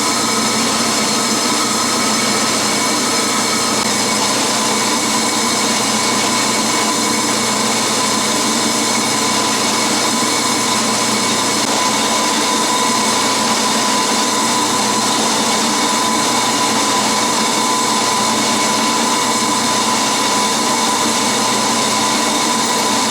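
An Atlas Craftsman 12-inch metal lathe runs steadily with a constant mechanical whine and hum, held at an even level with no talk over it.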